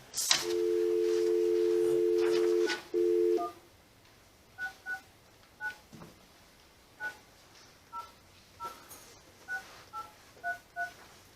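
Telephone keypad tones dial into a conference call at a county board of supervisors meeting: a long dial tone, then a quick series of about a dozen short touch-tone beeps in an uneven rhythm, clear against a quiet room.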